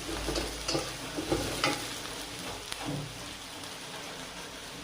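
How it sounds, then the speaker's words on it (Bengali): Garlic frying in a pan, a continuous close crackling sizzle with bursts of stirring scrapes in the first half, steady and moderately loud, no talking. "রসুন দিয়ে দিলাম,"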